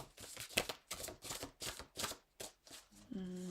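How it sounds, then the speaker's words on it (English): A deck of cards being shuffled, a string of quick riffling bursts in an even rhythm, close and quiet, with a brief voice at the end. "One more shuffle."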